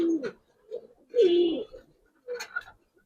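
Pigeons coo in short, soft, rounded phrases, three separate bursts with quiet gaps between them, close by and otherwise alone.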